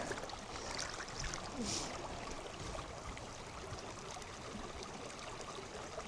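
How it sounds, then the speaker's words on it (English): A small creek dug out long ago runs in a Southern Utah rockhounding spot, its steady low trickle and burble continuing alone without talk, with a faint splash partway through. "Nice little creek that was dug out long ago."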